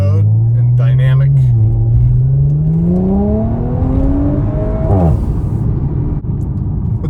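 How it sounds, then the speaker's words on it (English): An Audi B9 S5 with an aftermarket RedStar downpipe accelerates in sport/dynamic mode with a deep, raspy exhaust note, pitch climbing steadily as it revs through a gear change, loud and close. "I'm going to do a little acceleration in sport mode and dynamic."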